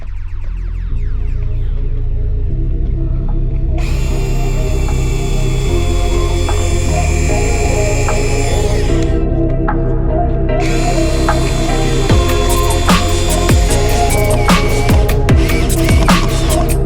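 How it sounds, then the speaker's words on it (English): A right angle power drill whines loudly in two long bursts drilling pilot holes for carbon side skirts on an Audi TT RS Mk3, with a short pause between, followed by a looser stretch of clicking and ratcheting mechanical noise nearby. "now I've got to drill the pilot holes so I can get the screws in"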